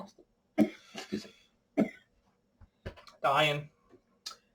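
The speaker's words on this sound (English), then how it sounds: "I've been coughing all day." A person coughs repeatedly, with several harsh, throaty bursts and a long rasping hack, close to the microphone with brief vocal sounds between coughs.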